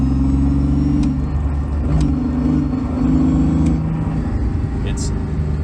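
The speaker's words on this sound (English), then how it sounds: "I just wanted to show how loud it is with just this small piece of carpet missing" Loud cabin noise inside a moving BMW E46 with solid motor and transmission mounts and a piece of carpet missing, a steady heavy engine and road drone with low humming, continuous throughout as a person talks.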